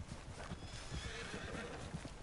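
A horse in Red Dead Redemption 2 online whinnies amid clip-clopping hooves, a faint neigh over busy game noise with a voice briefly heard.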